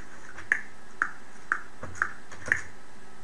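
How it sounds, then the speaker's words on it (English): Count-in clicks from Sonar X2 recording software: five sharp, evenly spaced ticks about half a second apart, clean and alone against a quiet background. "If you are at a complete stop in Sonar and you press R, it will count in."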